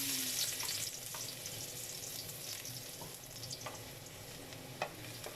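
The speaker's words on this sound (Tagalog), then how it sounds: "Mainit na yung ating oil. Lagay na natin yung ating bawang." Chopped garlic sizzles and fries in hot oil in a home kitchen. A steady bright crackle runs throughout, with occasional soft stirring clicks and taps of a utensil against the pan.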